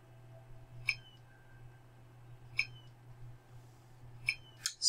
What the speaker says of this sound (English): Sorry if you can hear that clicking.